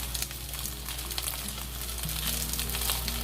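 Soy protein sizzles steadily in a pan over medium heat with a spoonful of dark soy sauce, a dense, even frying crackle with a faint low hum beneath.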